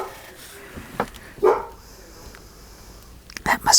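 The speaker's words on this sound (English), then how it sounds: "The dog's barking." A pet dog barks indoors a few times in short bursts amid household background noise, with a person speaking nearby.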